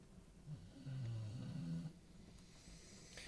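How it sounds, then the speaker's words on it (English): A dog snoring nearby, with a low, rumbling snore drawn out over about a second, then softer breathing in a quiet room. "My dog is snoring up a storm."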